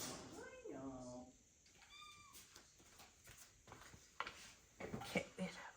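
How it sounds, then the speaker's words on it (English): A kitten meows in a short series of rising cries near the start, then fainter rustling and handling noises follow while a person speaks softly nearby. "let me go let the kitten out"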